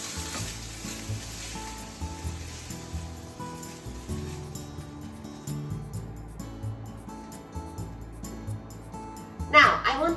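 Bacon sizzling in a frying pan, a soft steady crackle and hiss beneath speech, with a brief louder scrape or clatter near the end.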